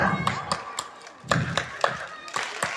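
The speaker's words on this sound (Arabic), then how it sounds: "صفقوا كيما نصفق انا هكايا" Rhythmic hand clapping at a children's clown and magic show, a steady beat of sharp claps from a small group over a voice talking.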